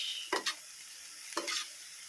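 Cabbage sautéing in a pan while noodles wait to be cooked, two brief stirring scrapes over a steady quiet sizzle, close and moderately soft with no talking.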